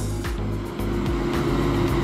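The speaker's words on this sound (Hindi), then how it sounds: "देखिए दोस्तों उधर से एक ट्रक आ रही है" A heavy truck climbs a winding mountain ghat road at Chilpi Ghati in Chhattisgarh, its engine droning low and steady with rhythmic gear and exhaust pulses, loud and close throughout.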